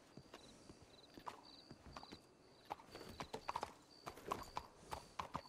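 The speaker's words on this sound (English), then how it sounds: "Enjoy riding your horse on the sidewalk." Steady hoof clip-clops from a horse ridden on a sidewalk in Red Dead Redemption 2, a rhythmic clatter of footfalls with a brief whinny, set against low background noise.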